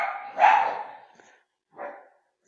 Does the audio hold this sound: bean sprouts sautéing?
no